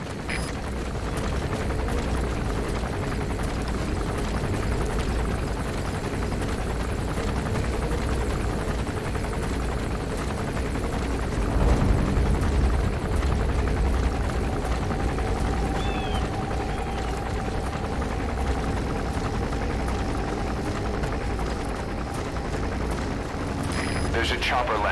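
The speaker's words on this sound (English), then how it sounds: "There's a chopper landing." A helicopter comes in to land in Metal Gear Solid V: The Phantom Pain, a steady rotor drone that fills the whole stretch, swelling slightly near the middle, with game ambience and scattered distant gunfire underneath.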